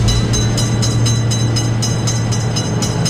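Loud, close passage of a game train over an Indian level crossing: a constant low drone with evenly spaced wheel clacks repeating across the whole stretch, no voices.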